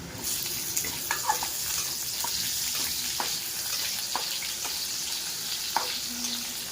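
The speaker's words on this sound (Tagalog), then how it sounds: "Lagyan na natin ang ating sibuyas." Onions fry in a pan with garlic, giving a steady close hiss and crackle, broken by a few light clinks and stirring sounds. No one speaks.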